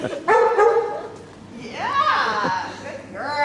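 Dogs at an agility event whine and yip while sniffing out a scent, with excited rising whimpers over steady handler talk nearby.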